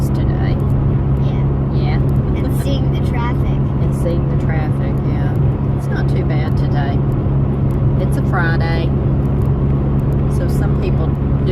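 Steady road traffic rumbles past on a weekday morning, a continuous low drone of cars with occasional louder passes, running under conversational voices throughout.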